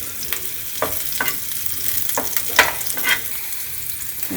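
Chilies are stir-fried in a pan over low-medium heat for hotel-style chilli chicken, with a soft, steady sizzle broken by a series of spatula scrapes and stirs at irregular intervals.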